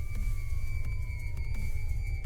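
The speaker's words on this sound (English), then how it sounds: "The sound of sirens." Steady wailing siren sound effect with long sustained tones over a dense low rumble, loud and continuous throughout, with no voices.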